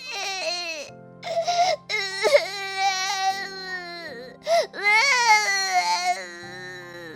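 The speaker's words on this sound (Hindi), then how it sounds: "एक बच्ची के रोने की आवाज सुनाई दी।" A baby girl cries in sustained, wailing bursts with brief gasping pauses between them, loud and close, with no other voices around.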